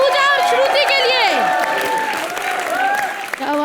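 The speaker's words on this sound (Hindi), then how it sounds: "एक बार जोरदार तालियां शकील, पूजा और श्रुति के लिए।" A TV comedy show's studio audience claps loudly and continuously, with cheering and bright music or voices layered over the applause.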